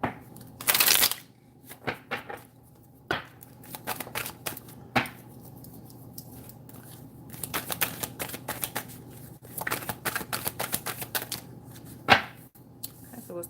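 Tarot cards being shuffled, with crisp riffling bursts and rapid clustered slaps repeated through the clip, close and fairly quiet with no speech.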